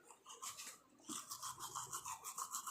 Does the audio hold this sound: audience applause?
no